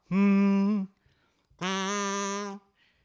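Two sustained buzzy hummed tones through a kazoo, the second slightly higher, each held under a second with a short gap between.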